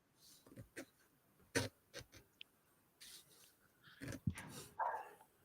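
A dog barks and huffs indoors in short, scattered bursts spread irregularly, fairly faint and close, with no talk over it.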